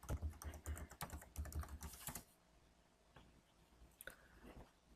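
Keystrokes on a computer keyboard enter a value into an Oracle Apps R12 form, a fast burst of close clicks for about two seconds, then a few scattered taps in a quiet room.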